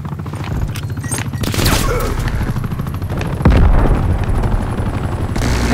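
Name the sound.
enemy attack helicopter in video game Black Ops Cold War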